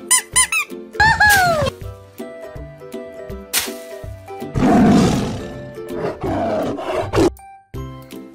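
Yellow tiger animal toy lets out a loud, close roar lasting a couple of seconds, flanked by squeaky chirps and a bouncy jingling toy tune with steady beats; no voices.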